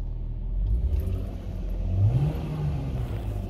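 A BMW E39 with an M50/M52 engine, just after an air-conditioning repair, hums at idle as the revs gradually settle down, a low steady engine drone with a slight rise and fall, close by and without talk.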